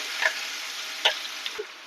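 Chopped onion tipped into hot oil already seasoned with mustard seed, cumin, turmeric, asafoetida and curry leaves for bhaji, giving a steady close sizzle with a few sharp crackling pops and light spoon clicks.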